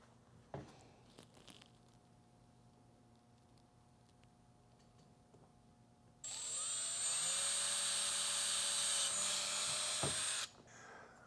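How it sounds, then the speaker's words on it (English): A power drill with a 1/4-inch bit whines steadily for about four seconds while drilling a hole for a Ford Ranger Xpedition ute mount, after a quiet stretch with a couple of faint clicks, then stops abruptly. "We're gonna go ahead and use a 1/4-inch drill bit and drill the first hole out."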